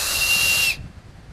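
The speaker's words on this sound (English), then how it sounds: "The acorn cupule is well known as a whistle, a loud whistle, forming a V with your thumbs like this." A loud, breathy whistle blown through an acorn cupule held between the thumbs in a V, one shrill hissing blast lasting under a second and then cut off.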